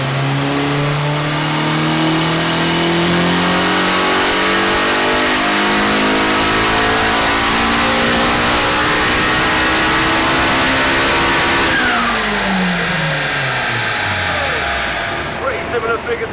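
A tuned, turbocharged Honda Civic engine with a forged B18 build revs hard on a dyno and climbs steadily in pitch for several seconds, then drops off as it winds down, loud and continuous throughout.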